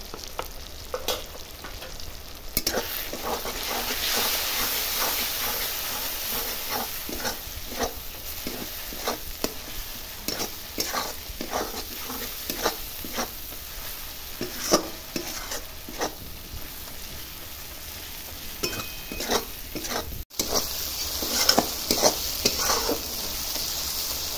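Ground spices such as turmeric, cumin, coriander and garam masala frying and being stirred in a pan for jackfruit kofta curry, steady sizzle with repeated scraping strokes close by, no talking.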